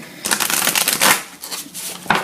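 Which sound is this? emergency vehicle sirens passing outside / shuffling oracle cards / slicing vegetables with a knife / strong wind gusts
shuffling oracle cards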